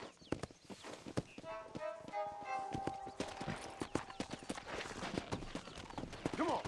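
Horse hooves clip-clopping in Red Dead Redemption, a steady walking rhythm of close, distinct hoof strikes over a drawn-out tonal ambience, continuing throughout.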